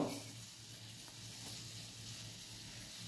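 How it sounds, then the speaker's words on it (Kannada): Cinnamon bark frying in a pan over a medium flame while making Vangi Bath, a faint, steady sizzle and hiss with a low hum beneath and no talking. "ಮೀಡಿಯಮ್ ಫ್ಲೇಮ್ದಲ್ಲೇ ಇಟ್ಟು ಹುರಿಬೇಕು, ತುಂಬ ಹೈ ಫ್ಲೇಮ್ ಇಟ್ಟು ಹುರಿಬೇಡಿ."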